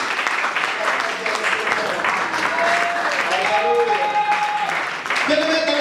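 A church congregation at a Sunday service claps in sustained applause, with voices and singing-like tones rising over the crowd's continuous clapping.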